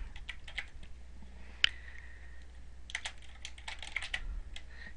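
Keys clatter on a computer keyboard as a name is typed into a document header, quick close taps coming in short irregular bursts with a brief pause between them.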